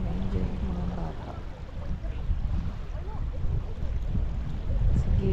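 Paddling a small boat on the water at Brewers Campground, a steady wash of splashing and water noise with low rumble throughout, close and moderately loud, no clear talk.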